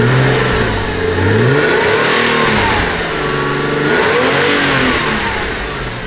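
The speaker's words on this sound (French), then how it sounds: "Le rugissement mélodieux de ce moteur n'a rien à envier à celui du flat 6 de la Boxster." A loud BMW Z3 sports car engine revs up and down in smooth, rising and falling sweeps, close and powerful, with no talking.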